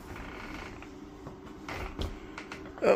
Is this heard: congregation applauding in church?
no